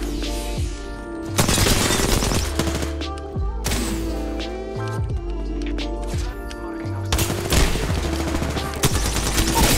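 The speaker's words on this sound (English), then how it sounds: "Being shot at." Rapid bursts of automatic gunfire from Apex Legends combat, loud and close, with crackling volleys, impacts and booms layered together in dense, overlapping bursts, with a voice talking in between.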